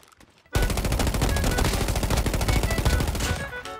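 Rapid automatic fire from the BP50 rifle in a Call of Duty Mobile battle royale match, a dense, loud, continuous burst of close gunshots lasting about three seconds after a brief quiet start.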